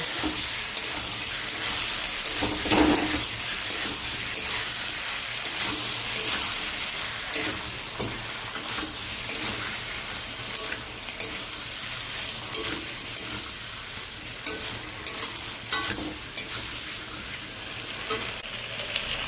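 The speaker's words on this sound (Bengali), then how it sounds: "আর একটু নেড়ে দিই" Taro and potato curry frying in a pan, stirred with repeated spoon scrapes over a steady close sizzle that runs throughout.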